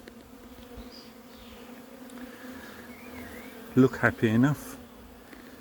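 Honeybees at a beehive give off a continuous close buzzing drone, with someone speaking briefly over it near the end.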